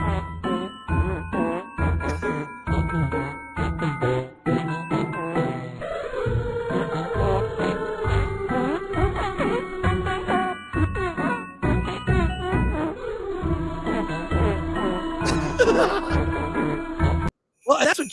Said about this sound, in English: the music you're playing, the sleigh bells